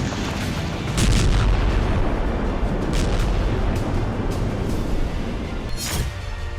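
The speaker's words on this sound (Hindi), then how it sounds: "कोपियांस्क में यूक्रेन के सैनिकों के ठिकाने पर रूस ने आर्टिलरी से प्रहार किया।" Russian artillery strikes a Ukrainian military position near Kupiansk: a dense, continuous rumble of heavy fire with repeated sharp blasts and booms, loud and sustained throughout with no talking.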